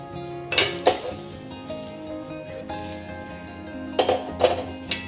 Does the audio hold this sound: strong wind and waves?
no